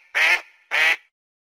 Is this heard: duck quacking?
yes